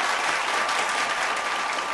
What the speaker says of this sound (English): they need a standing ovation